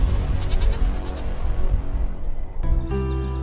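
A goat bleats close by, loud and wavering, and a second short sharp call follows near the end.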